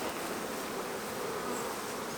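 Honey bees from a swarm colony at a hive, a dense continuous buzzing hum, steady and close with no other sounds.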